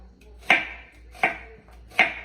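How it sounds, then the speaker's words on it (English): Three sharp knife chops through an onion on a cutting board, evenly spaced about three-quarters of a second apart, close and crisp with no voices. "I'm just gonna chop up the whole onion like that"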